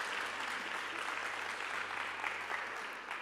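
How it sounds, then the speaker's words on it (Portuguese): Congregation at a church service giving the worship band a continuous round of applause, even and fairly distant throughout. "Você poderia dar uma salva de palmas para o grupo de louvor?"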